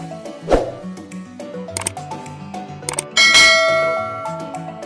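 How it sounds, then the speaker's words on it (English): A bright bell ding rings out and slowly fades, following a few clinking, chiming tones and a short musical jingle. "don't forget to turn on the notification bell"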